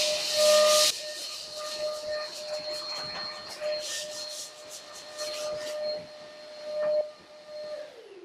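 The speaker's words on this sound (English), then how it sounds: "I've got my dustless sander, my mirca sander. I'm going to sand all these in." A dustless power sander whirs against plasterboard ceiling joints with a steady high-pitched tone, scraping and rubbing in short sweeps and pauses.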